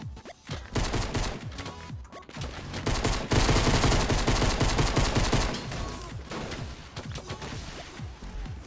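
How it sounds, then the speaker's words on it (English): Rapid bursts of gunfire crackle outside a house in the video game Fortnite, a dense, sustained volley of shots with scattered sharper cracks, fairly loud and without speech. "Your gunshots outside."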